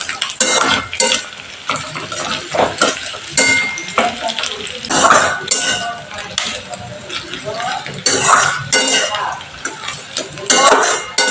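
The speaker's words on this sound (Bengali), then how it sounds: "আমি এখানে স্বাদের জন্য পেঁয়াজটা অ্যাড করে দিলাম।" Sliced onion frying and being stirred in hot oil in a home kitchen pan for cauliflower curry, a steady sizzle with spoon scrapes against the pan running throughout.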